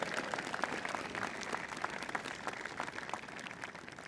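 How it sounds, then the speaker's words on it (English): A crowd at a governor's inauguration in Annapolis, Maryland applauds the Naval Academy Glee Club steadily, many hands clapping in a dense, even patter at moderate volume throughout, with no talking. "let's give a round of applause to the Naval Academy Glee Club"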